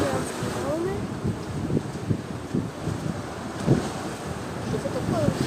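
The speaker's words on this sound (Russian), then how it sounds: "я увидел гигантские волны." Strong wind buffets the microphone on the shore at Yalta during a sea storm, with the low roar of giant waves surging and crashing throughout, loud and continuous.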